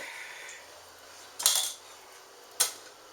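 A metal pot with water is set down on a stove, two sharp clanks about a second apart, close and clear over a quiet room.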